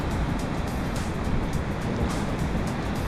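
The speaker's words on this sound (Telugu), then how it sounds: "ఇదే ఇంకా వాటర్ ఫాల్" Rushing water at Gayatri Waterfalls makes a loud, continuous roar without pause, with no voices over it.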